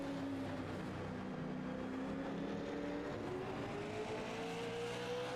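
Super late model race cars running nose to tail at Martinsville, a faint, distant engine drone that holds steady while its pitch slowly climbs.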